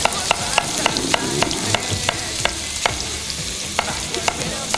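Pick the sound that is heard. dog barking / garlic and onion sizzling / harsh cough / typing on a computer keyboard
garlic and onion sizzling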